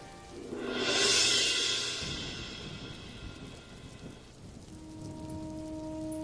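Rain falls steadily in a dramatic scene, a loud hissing wash swelling in the first two seconds before settling into a softer, continuous patter, with a faint tonal hum entering near the end.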